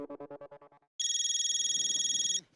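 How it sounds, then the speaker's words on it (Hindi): A mobile phone ringtone plays loud and close as a steady electronic tone lasting over a second, following a short burst of rhythmic musical speech or singing, with faint talk underneath. "मोबाइल पे बजी घंटिया"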